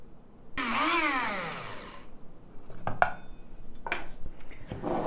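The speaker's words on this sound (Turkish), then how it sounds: "Ben öğütücüden öğütmeyi tercih ediyorum." An electric spice grinder whirs up and winds down while grinding dried bay leaves, a rising then falling motor whine, followed by rattling and knocking of the grinder and lid, close and moderately loud.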